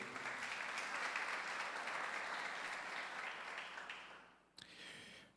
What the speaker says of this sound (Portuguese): Dê uma forte salva de palmas a Ele.